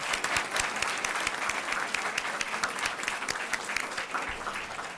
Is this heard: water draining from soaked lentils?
no